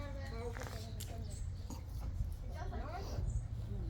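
A dog whimpers and whines in a string of thin, rising cries, set against a steady murmur of background voices and ambient noise.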